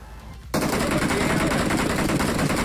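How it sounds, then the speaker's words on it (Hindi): Gunfire in a battle royale video game erupts abruptly after a brief quiet moment, then continues as a loud, dense, rapid stream of shots. "फायरिंग की साउंड आ रही थी"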